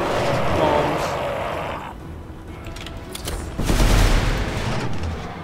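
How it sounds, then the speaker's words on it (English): Death bombs detonating in the Magicka video game, a dense burst of loud overlapping explosive blasts that dips briefly midway and then surges again into a heavy, rumbling barrage. "Death bombs."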